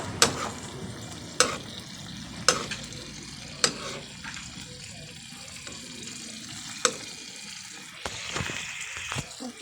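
Corned beef sizzles steadily in a pan while being stirred, with sharp periodic clicks and scrapes of a utensil against the pan every second or so over a continuous frying hiss, close up and without talk.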